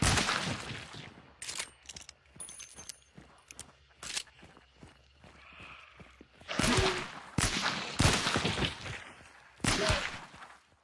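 A Sharps patent Derringer pistol in Hunt: Showdown, fired in a few sharp, loud shots spaced a second or two apart after a stretch of quieter footsteps and small clicks.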